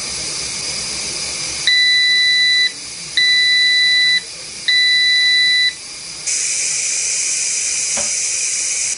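A Carey pressure canner's electronic timer sounding three evenly spaced beeps, each about a second long, over a steady background hiss of steam, then the hiss continues alone.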